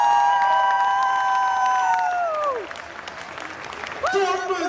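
A horror convention crowd in Germany applauds and cheers for The Walking Dead panel guests, with loud sustained clapping and long high whoops and screams that fade, then rise again briefly.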